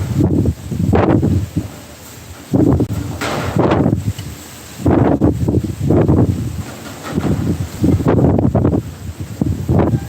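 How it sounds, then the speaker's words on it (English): Gusty outdoor wind buffets the microphone in loud, rumbling bursts that swell and fade in waves, with brief quieter gaps between gusts and no talking. "it's windy, that's why I'm pausing, because I want the wind to calm down a little"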